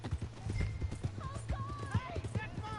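Horse hooves clip-clopping at a steady trot in the Western game Red Dead Redemption 2, close and rhythmic, with game music tones and a brief snort over the hoofbeats.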